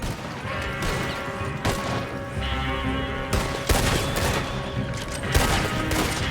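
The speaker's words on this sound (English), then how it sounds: "Shoot them, Arthur, before they blow us to high hell" Rapid bursts of gunfire crackle through a Red Dead Redemption 2 shootout, with sharp cracks and heavy impacts layered over a constant rumbling background, loud and dense throughout.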